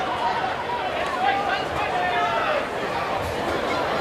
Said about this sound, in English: And just hear the audio level from the crowd starting to build here.